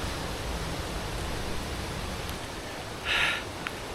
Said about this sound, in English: Gosh, and it's raining fast.